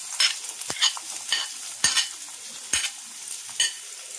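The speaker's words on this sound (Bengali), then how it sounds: "প্রথমে আমি কড়ার মধ্যে দিয়ে দেব পেঁয়াজ কুচি" Chopped onion fries in a wok for aloo paratha filling, a continuous soft sizzle broken by several sharp spatula scrapes and knocks against the metal.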